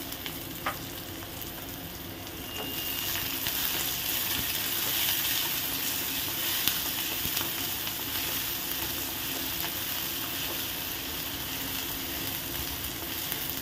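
Chopped tomato sautés in a pan for upma, giving a steady, even sizzle that continues alone for the whole stretch, with no voices.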